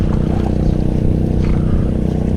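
A small motorboat engine runs steadily on the water at a fishing spot, a loud, close, continuous drone with an even rhythmic throb.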